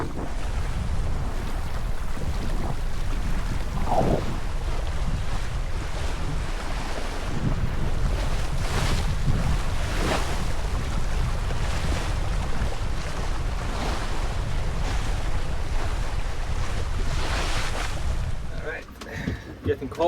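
Cold wind buffets the microphone aboard a 30 ft Norwegian boat on a solo sea crossing, with waves washing steadily around the hull in a continuous loud roar that drops away briefly near the end.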